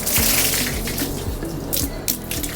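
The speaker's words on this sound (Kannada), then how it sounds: "ಅಮ್ಮ ನೀರು ಹಾಕ್ತಾ ಇದ್ದಾರೆ ಅವಳಿಗೆ." Lukewarm water is poured over a golden retriever during a bath in the sun, a steady close splashing gush with uneven surges and no talk.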